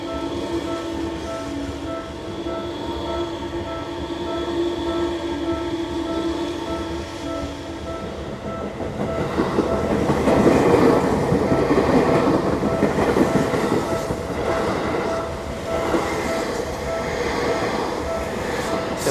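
A train rolls past a small level crossing in Japan in the rain, a continuous rumble and clatter of wheels that swells midway as the cars go by, with a steady tonal hum underneath.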